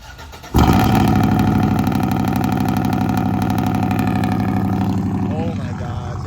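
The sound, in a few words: truck engine cold start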